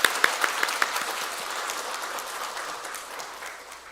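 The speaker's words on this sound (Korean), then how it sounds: "박수하겠습니다" Church congregation applauding during a Sunday morning worship service, opening with a few distinct sharp claps that swell into steady, dense clapping from a large crowd, slowly fading toward the end.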